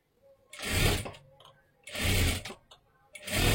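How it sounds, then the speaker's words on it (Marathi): A sewing machine runs in three short bursts, double-stitching a seam on a katori blouse, each whirring run about half a second long and separated by quiet pauses. "परत एकदा डबल शिलाई देऊन घ्या"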